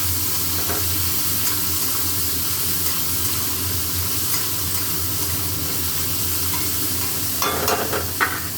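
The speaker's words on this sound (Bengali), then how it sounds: "গাজর বিনস আর ফুলকপি করে ভেজে নেব" Carrots, beans and cauliflower stir-fry in a pan with a steady close sizzle and hiss, joined near the end by a few scraping stirs of the spatula.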